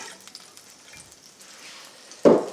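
Eggs in oil in a frying pan, part of an egg and spinach dish: a faint low sizzle that swells into a loud, bright burst of crackling spitting near the end as they hit the hot oil.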